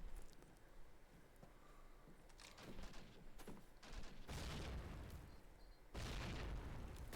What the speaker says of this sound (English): Nades landing in grave.